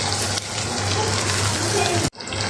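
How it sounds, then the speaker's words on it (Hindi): Water gushes steadily into a cooking pot of soaked rice and chickpeas, a loud continuous pour that cuts off abruptly near the end, followed by a quieter settling hiss. "पानी ऐड कर देंगे इसके अंदर"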